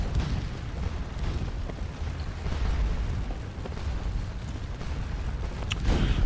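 Artillery guns firing in the Napoleonic battle game Scourge of War Waterloo, a dense, continuous rumble of booms and bursts sustained throughout, with a sharper report near the end.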